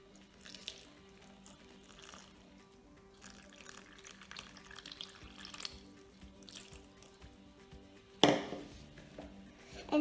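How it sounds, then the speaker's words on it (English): Water poured from a tap into a mix for homemade oobleck, a continuous splashing, trickling flow with drips, moderately loud and close, with a sharper splash near the end. "Now let's add the water."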